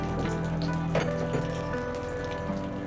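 Dried and green chilies with nigella seeds sizzle in hot mustard oil, a steady close crackle and hiss running evenly throughout with small pops scattered across it.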